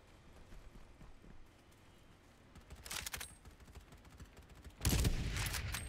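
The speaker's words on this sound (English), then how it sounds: "Oh, I just heard a big old gun." A big gun fires in a video game: a burst of shots near the three-second mark, then a louder, heavier blast near the end, with no voices.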